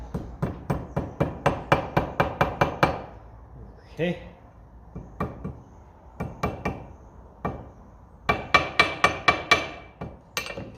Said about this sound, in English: might just give him a dunt there first with the hammer just to straighten up